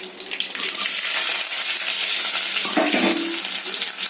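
Mustard seeds dropped into hot sesame oil in a heated pan, a loud continuous sizzling hiss with crackling and popping, close and without talk.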